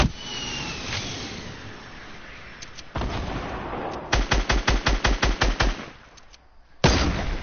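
Gunfire in Fortnite: scattered shots and a burst of roughly a dozen rapid, evenly spaced automatic rounds, loud and close, followed by another sharp shot after a short lull, with no voices.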